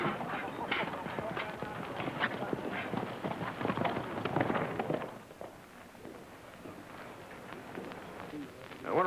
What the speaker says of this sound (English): Come on, let's get your horse.